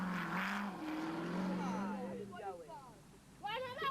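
A rally car in the 2009 Toyota 1000 race drives past a small group of spectators, its engine droning steadily under continuous talking before a brief louder surge near the end.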